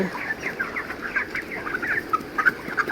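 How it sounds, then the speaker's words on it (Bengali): A flock of 32-day-old chickens clucks steadily, with overlapping short calls rising and falling close by and no talk. "তো আমার মুরগির বয়স আজকের 32 দিন।"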